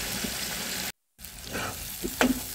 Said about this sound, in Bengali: সেই আলুটা আমি এই মশলার ভিতর দিয়ে সুন্দর করে কষিয়ে নেব।